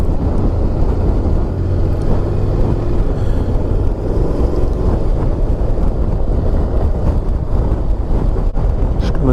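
A 2024 Honda NC 750 X DCT motorcycle ridden through a village at about 20 mph on a rough road, a loud constant rush of wind buffeting over a low engine drone, with no talk.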